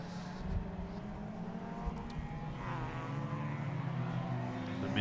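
Mini and Toyota Celica race cars lapping a circuit, their engines a steady droning roar that rises slightly as they accelerate, moderately distant, with no talk.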